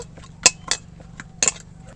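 Knife slicing through pea-stuffed luchi dough on a board to cut portions, giving a few sharp separate clicks and taps close by, with quiet gaps between them and no talking.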